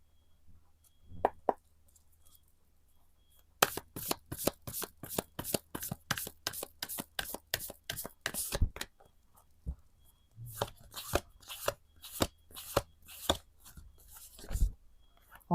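Oracle cards are shuffled by hand in a quiet room: a few soft taps, then long runs of rapid crisp riffling snaps, a brief pause, and more irregular shuffling slaps, close and moderately soft with no talking.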